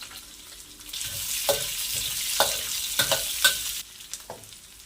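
Onions added to a pan with mustard seeds, cumin and urad dal fry with a steady, close sizzle, broken by several sharp scraping clicks of stirring near the end.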